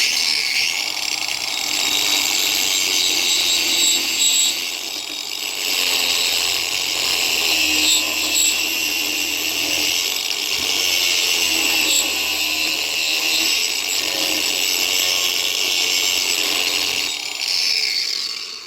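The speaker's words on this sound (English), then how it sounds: "I have a diamond hole saw on the end of a grinder, and we're going to ream it by using the outside of the diamond" A diamond hole saw on an angle grinder reams a hole in a solid surface vanity top, a loud, continuous high-pitched grinding whine that holds steady close up for the whole stretch with only slight dips.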